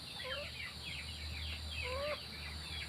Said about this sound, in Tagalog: Ayun, nagwawala na rin yung mga sisiw.